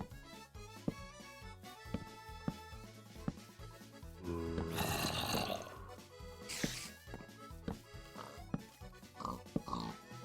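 Pigs oink and snort in Minecraft SkyFactory 4, several short grunts scattered over steady background game music, with a louder noisy burst midway.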